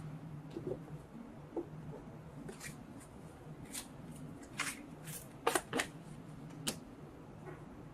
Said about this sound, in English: I'm just going to pull cards and see what comes up.